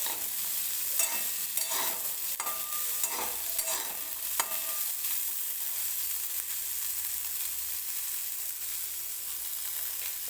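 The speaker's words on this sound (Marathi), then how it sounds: "आता मी थोडंसं तेल टाकून हरभरा जो आहे तो भाजून घेते" Fresh green chickpeas roast in a little oil in a pan, giving a steady close sizzle with scraping stir strokes in the first few seconds. No one speaks.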